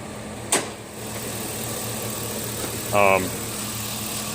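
Toyota FJ80 Land Cruiser with a swapped engine idling quietly, a steady low hum throughout with a sharp click near the start and a brief tonal squeal about three seconds in.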